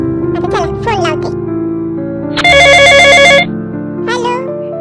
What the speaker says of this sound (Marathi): आता चला फोन लावते.